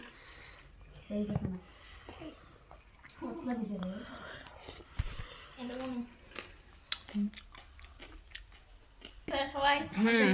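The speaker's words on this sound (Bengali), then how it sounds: "এই যে চটপটি এখন আমি খাবো" Someone eats chotpoti with a spoon at close range, making intermittent wet chewing and soft crunching sounds, with brief spoon clinks and people talking between bites.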